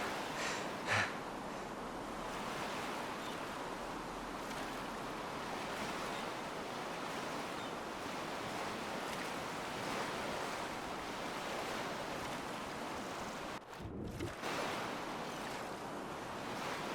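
Swimming in water in Enderal, a Skyrim mod video game, makes a continuous rushing, surf-like wash of water. It stays steady and fairly faint, with a short splash near the start and a brief dropout later.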